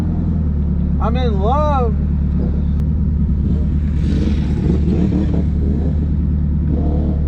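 A turbocharged Honda K24 engine in an EG hatchback rumbles loud and close, its low drone steady under excited talk, with a brief rising whistle-like sweep early on.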